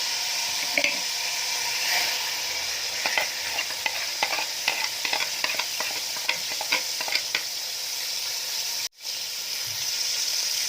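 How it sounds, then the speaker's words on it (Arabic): Vermicelli fries in about four large spoons of ghee in a pot, a steady sizzle broken by repeated scraping and clicking strokes as it is stirred. A brief dropout comes near the end. "نزلنا بالشعريه بتاعتنا نقلبها معاك اهو"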